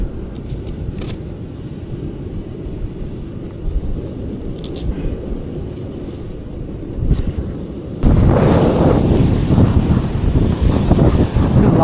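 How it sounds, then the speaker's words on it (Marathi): Sea waves at Korlai port, a continuous rushing, roaring wash mixed with wind noise that swells louder and brighter near the end as a wave breaks close by. "लाट मारते बघा मित्रांनो."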